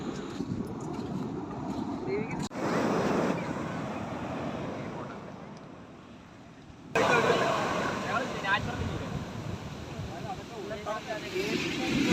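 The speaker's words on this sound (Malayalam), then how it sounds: "അതിശക്തമായിട്ടുള്ള തിരമാലകളാണ് വന്നുകൊണ്ടിരിക്കുന്നത്" Strong monsoon sea waves at Kollam beach in Kerala make a broad, continuous roar that swells and eases, heavy with wind buffeting the microphone, while people talk over it.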